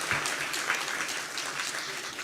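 Applause from the audience at a journalism association anniversary symposium, a steady wash of many hands clapping at moderate distance, with no talk over it.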